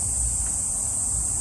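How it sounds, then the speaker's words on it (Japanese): Summer cicadas singing as a continuous, dense, high-pitched buzzing drone that holds steady throughout over a low background rumble. "セミの声が聞こえますね。"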